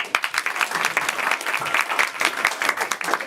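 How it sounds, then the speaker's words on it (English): Audience clapping for spelling bee champions at a live event, a dense, steady burst of applause from a crowd, loud and close. "Please clap for them."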